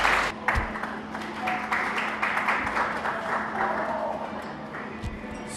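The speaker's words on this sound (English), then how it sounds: "But you all need to encourage me today by giving me a round of applause," A crowd claps at the official opening of a youth center during a community lunch, producing a moderate, steady patter that fades slightly over several seconds with a few louder claps standing out.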